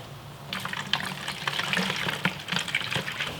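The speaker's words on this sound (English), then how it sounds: "get a jug of water and just fill this up until it's full" A jug is filled with water for diluting professional detailing products, giving a steady gushing, splashing pour up close with no talk.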